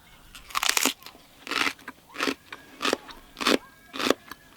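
Crisp produce stored in a root cellar is bitten into with loud, close crunches, about six evenly spaced bites with short pauses between them and no talking.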